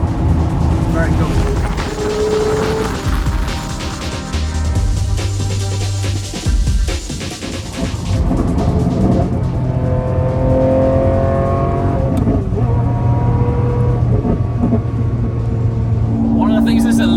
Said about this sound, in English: I think it's the firing order of the cylinders, and the angle of the bank, and then obviously the Hardy pipe.